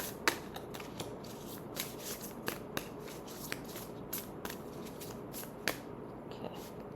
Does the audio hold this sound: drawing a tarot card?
yes